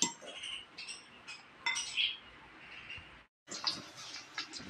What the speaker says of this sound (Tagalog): Piniprito na po natin ang meatloaf.